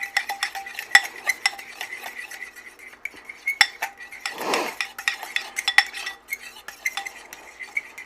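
A spoon stirs steamed clams and shrimp with Old Bay seasoning in a dish, making close, repeated clinks and scrapes in an irregular rhythm, with one softer swish partway through.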